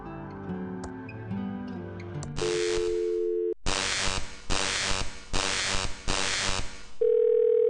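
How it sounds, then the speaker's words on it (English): A telephone in the Thimbleweed Park adventure game plays a steady dial tone, followed by a run of pulsing busy-signal bursts and then another sustained tone, clear and loud. "It's a phone."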